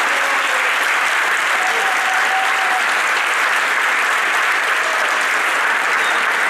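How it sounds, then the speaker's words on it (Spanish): Audience applause at a journalists' day event fills the whole stretch, a steady dense wash of clapping from a room full of people, loud and even with no break. "El aplauso para Mario Weinfeld y de aquí lo recibimos."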